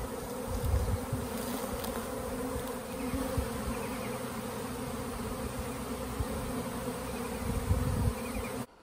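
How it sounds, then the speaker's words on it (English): A honeybee swarm buzzes around bushes shortly after a hive split, a dense, steady drone of many bees close by and continuous throughout, with no talking. "I can't believe they're swarming."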